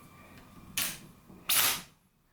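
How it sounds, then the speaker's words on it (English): An M1 Garand rifle has an en-bloc clip pressed into it, giving two sharp metallic clicks about a second apart as the clip seats and the bolt snaps closed, close and crisp in a quiet room. "So that second click is the clip actually traveling all the way down and locking in place."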